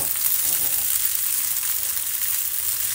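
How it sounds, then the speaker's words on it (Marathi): Chow mein noodles fry in a pan over a lowered gas flame, giving a steady, close hiss and sizzle that runs unbroken throughout with no talking. "याला फ्राय करून घ्या अगोदर व्यवस्थित."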